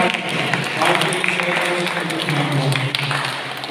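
Church congregation applauding during a feast-day Mass, a broad, steady wash of clapping from many hands that continues under a speaking voice.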